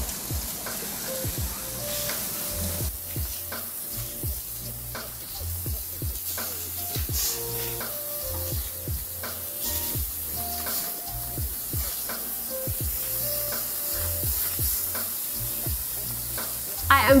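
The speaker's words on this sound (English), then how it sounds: "It's been preheating on high heat, so it's sizzling hot." Food sizzles on a barbecue grill preheated on high heat for a Greek lamb and cherry tomato plate, a steady close crackle with scattered pops and ticks throughout.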